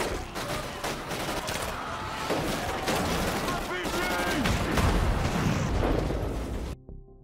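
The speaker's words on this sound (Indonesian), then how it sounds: "Sarge terpaksa menembakkan RPG ke arah kontainer" An RPG is fired at a shipping container during a zombie attack in a film, a dense, sustained roar of gunfire and blasts with rumbling explosions that stays loud throughout under faint voices.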